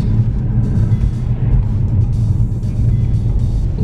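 A Ford Focus RS engine is held in launch control before a first-gear start, a loud, steady low rumble close up, continuous throughout with no break.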